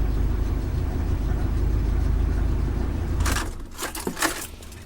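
A steady low engine idle from an old car with a slight exhaust leak rumbles for about three seconds, then cuts off, leaving a few scattered clunks and rustles.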